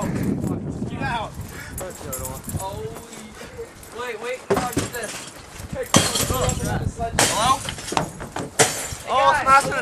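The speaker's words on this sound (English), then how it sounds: "smashing a trailer." Camper trailer being smashed, with glass breaking amid crashes and clattering impacts, loud and close, while several people shout and talk excitedly over the destruction.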